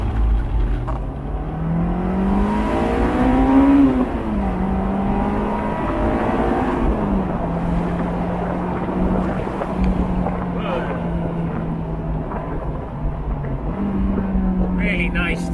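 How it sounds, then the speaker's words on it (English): Honda S2000 engine driven roof-down in drizzle, revving through gears with rev-matched downshifts: the engine note climbs, drops and levels in steps, loud and close under heavy wind noise. "Really nice to kind of rev match this engine."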